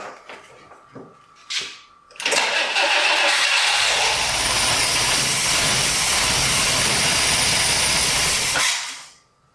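A 1962 AMC Rambler engine with a rebuilt dual-action fuel pump cranks after a few brief clicks, then churns loudly and steadily for about six seconds before cutting off.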